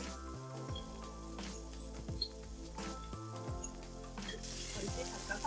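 Spring onions fry in a spoonful of oil in a pan, giving a low, continuous sizzle under music.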